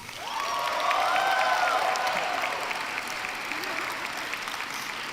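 A large audience at a college baccalaureate convocation breaks into a swelling round of applause that holds steady throughout, with a rising whoop near the start.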